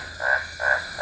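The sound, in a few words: big tree frogs croaking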